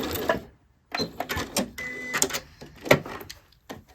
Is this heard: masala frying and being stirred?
no